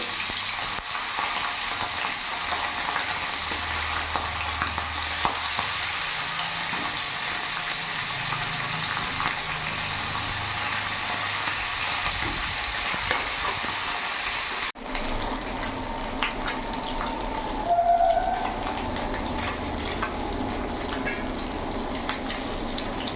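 Tengra fish fry in hot mustard oil, a loud steady crackling sizzle that continues for a long stretch, softening partway through as bubbling and occasional pops take over.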